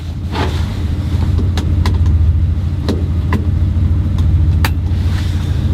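A car on mud tires pulls away on a rainy road, its engine humming and rumbling close and continuous, with scattered brief clicks and knocks over the drone.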